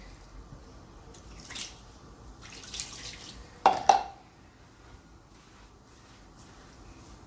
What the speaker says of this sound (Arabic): غادي دابا نديرو الماء، نرشو عليه الماء